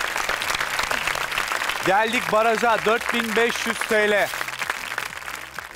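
A studio game-show audience applauds in a dense, steady wash of clapping while someone speaks over it in a melodic, drawn-out announcer voice, the clapping continuing under and around his words.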